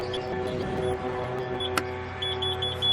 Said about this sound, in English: 5 beeps, now watch this.